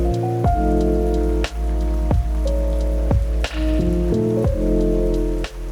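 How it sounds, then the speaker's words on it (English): Rain falls on London city streets, a soft steady patter that sits beneath loud, sustained musical tones, with no voices. "London is really beautiful in the rain"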